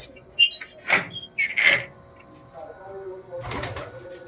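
Pigeons coo in short bursts, with soft rustling and a faint voice nearby.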